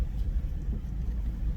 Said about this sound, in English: I'm just driving through the neighborhood